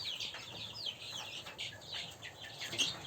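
Chicks about three weeks old cheep and cluck in a busy, continuous chorus of short high chirps, fairly close, with faint rustling underneath.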